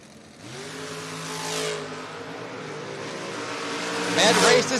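Drag race cars at a Door Wars event rev and accelerate hard, engine tones climbing steadily and loud, with a sharp burst near the end; a voice talks over the roar.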